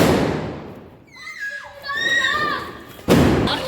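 Children set off firecrackers during a Govardhan festival evening: a whistling, warbling tone rises and bends for a couple of seconds, then a loud close thump follows, amid background noise and voices.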